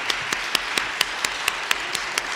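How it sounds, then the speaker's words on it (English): A keynote conference audience claps for two speakers, with a steady wash of applause marked by sharp individual claps at a fairly regular rhythm, moderately loud and without talk. "round of applause for Marie and Stephen."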